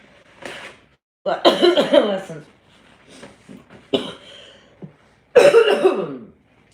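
Several harsh, close coughing fits in bursts after choking on a hot dog, with raspy throat-clearing between them and short pauses of quiet breathing.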